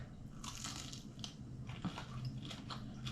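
Close crunchy bites and chewing of air-fried halloumi fries, several crackling crunches in quick succession with no talking.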